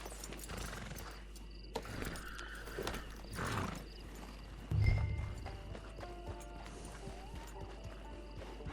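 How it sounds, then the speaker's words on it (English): A horse in Red Dead Online walks with steady clip-clopping hooves and gives a snort partway through, close and moderate in level, as a person talks over it. "Vamos a montar el caballo, penco viejo."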